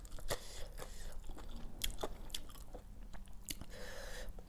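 Close, quiet crunching as someone chews a spicy Thai squid salad with plenty of fresh vegetables, with irregular crisp bites and wet chewing and no voices over it.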